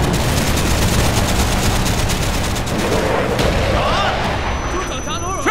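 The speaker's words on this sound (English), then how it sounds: "Coming in for strafing run." Heavy, continuous aircraft strafing gunfire and booming impacts roar loudly in the video game Call of Duty: Black Ops, with dense battle noise throughout and shouted voices over it.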